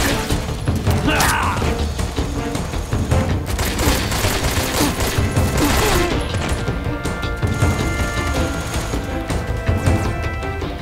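An anti-aircraft gun fires in Metal Gear Solid 3, loud and continuous, with rapid bursts of gunfire over mechanical clatter, crashes and booms, filling the whole stretch without pause.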